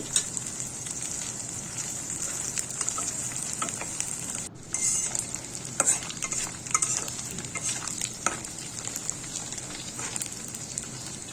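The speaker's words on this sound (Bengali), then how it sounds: "ঠিক সেই একই তেলের মধ্যে শুটকিগুলো আমি ভেজে নিচ্ছি।" Dried kachki fish fries in oil over medium heat, a steady crackling sizzle with intermittent stirring scrapes and clicks, heard close and alone.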